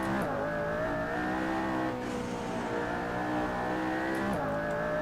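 A McLaren P1 in the Assetto Corsa racing game, its engine note held high and steady, then dipping briefly as the throttle lifts and climbing again, a continuous loud synthetic roar with a second short lift near the end.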